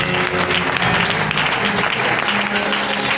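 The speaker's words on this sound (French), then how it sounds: "Est-ce que nous pouvons encore une fois les applaudir?" An audience claps for graduating students at a diploma ceremony, dense sustained applause that stays loud and even throughout without a break.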